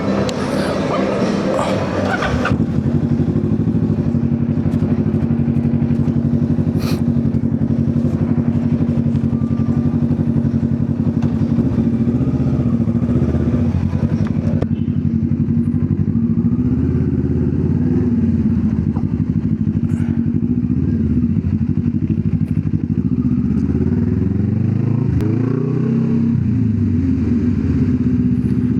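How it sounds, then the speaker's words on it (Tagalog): A Kawasaki Z650 motorcycle engine runs loud and steady close by, its aftermarket exhaust pipe droning continuously with slight shifts in pitch and a few faint rattles. "yung tunog ng pipe natin, sa una lang naman yan malakas"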